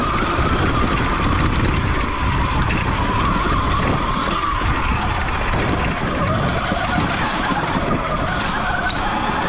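A Sur Ron X electric dirt bike on trails, its tires skidding and breaking traction in a loud, continuous rough scrubbing and rushing noise with no talk.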